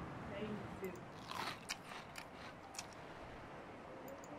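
A few sharp crunching bites, quick and crisp, over a soft background with faint voice sounds.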